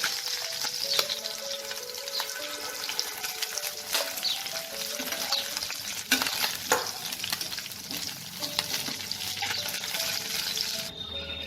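Pieces of tangra fish fry in oil with a steady sizzle and crackle, while a spatula clinks and scrapes against the pan at irregular moments. The sound is close and moderately loud, with no talking.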